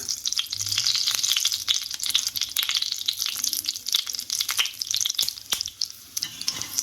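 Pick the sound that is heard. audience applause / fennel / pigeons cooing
fennel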